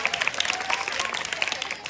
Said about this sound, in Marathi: टाळ्या वाजवायच्या सर्वांनी.